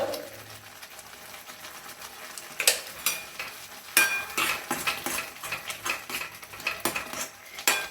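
Spoon scraping and clinking in a pan as half a teaspoon of turmeric and spices are stirred in for hot and sweet balls, with a low sizzle under repeated sharp metallic strikes that grow busier toward the end, no voices.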